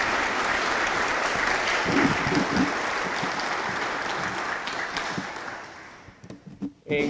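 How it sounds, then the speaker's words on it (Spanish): A crowd claps for a team at a public forum on light pollution prevention, dense steady applause that thins and fades near the end, followed by a few brief sounds. "un gran aplauso para este equipo"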